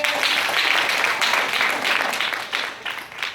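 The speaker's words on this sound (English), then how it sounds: "Anybody believe he's real? Clap your hands." Many worshippers in a church clap their hands together in a sustained, dense wave of applause that holds steady and then thins slightly toward the end.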